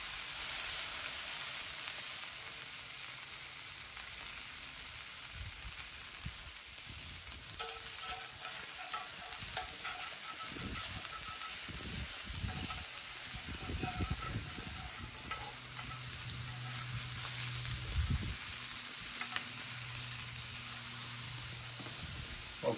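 Beef burger patties sizzle steadily on a hot griddle for a homemade Big Mac, a continuous broad frying hiss with scraping and pressing bursts from a spatula as they are smashed down.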